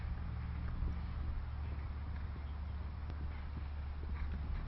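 Horse hooves thudding in a steady cantering rhythm during a women's show jumping competition, heard at a distance under low wind and background rumble.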